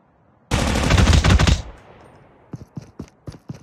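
The PDW submachine gun in Call of Duty: Mobile fires one loud, rapid automatic burst lasting about a second. A few separate single shots follow, spaced out and quieter, with no talking.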